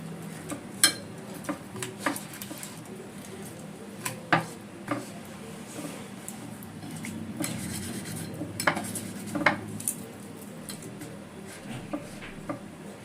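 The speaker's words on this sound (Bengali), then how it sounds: "নুন, হলুদ, সর্ষের তেল, লঙ্কার গুঁড়ো দিয়ে মাছটা ভালো করে মেখে নেব।" Rohu fish is worked by hand with salt, turmeric, mustard oil and chilli powder in a metal bowl, with soft squishing and rubbing broken by scattered light clinks and taps.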